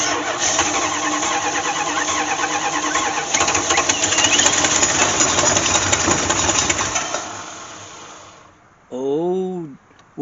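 An old Chevy square-body or Dodge truck engine that sat in a barn for over 20 years cranks and fires, running loud and steady for about eight seconds before cutting off, followed by a brief whoop of voice.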